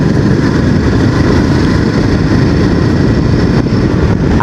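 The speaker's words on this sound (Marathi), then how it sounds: "देखो भाई कैसी भाग रही है मेरी बाइक." A Royal Enfield Himalayan 450 motorcycle riding at speed on an open road, a loud, constant engine drone mixed with heavy wind roar that fills the whole stretch without a break.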